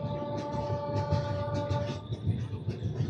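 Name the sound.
superfast express train running near Guntur junction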